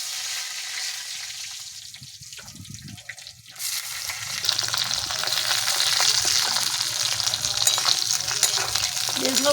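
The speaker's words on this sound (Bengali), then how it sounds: "এবার ওই তেলেই বেগুনগুলো ভেজে নেব।" Cut eggplant pieces fry in oil in a pan, starting with quieter clatter and stirring, then swelling into a dense, loud, steady sizzle that continues to the end with no talking.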